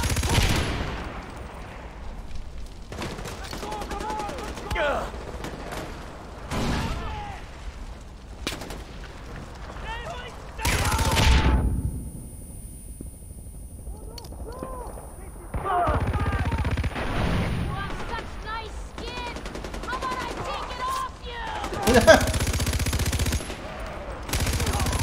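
Bursts of automatic gunfire and explosions crackle through a Far Cry 4 firefight in the finale mission, loud volleys broken by short pauses with scattered voices in between.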